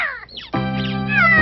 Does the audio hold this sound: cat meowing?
yes